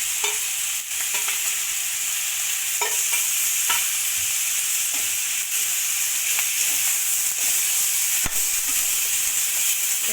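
Chopped onion and ginger-garlic paste fry in a hot pan for a local chicken curry, giving a loud, steady sizzle and hiss with occasional stirring scrapes, close by and without any talking.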